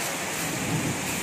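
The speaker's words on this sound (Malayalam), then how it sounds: "ഇപ്പൊ നല്ല മഴ വരുന്നുണ്ട് കേട്ടോ, നല്ല കാർമേഘം ഒക്കെ ആയിട്ട്." Heavy rain falling under dark storm clouds, a steady, dense hiss of downpour filling a brief moment with no voices.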